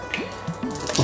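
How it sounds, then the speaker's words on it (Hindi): Cooking oil poured into a pot to start a chicken biryani, heard as a brief, close run of soft liquid drips and wet squishing with no talking. "सबसे पहले हमने डालना है ऑयल।"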